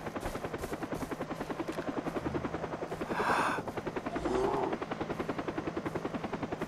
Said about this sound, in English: what's with the helicopter?